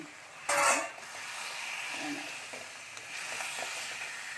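Chicken goes into a pan of spice paste mixed with yogurt for chicken kosa, with a sharp burst of sizzle on contact that settles into a soft steady frying hiss with light stirring scrapes.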